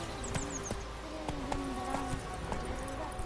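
Roach the horse trotting in Witcher 3, a steady run of hoof clip-clops on firm ground, close and clear over a faint ambient bed with chirping insects.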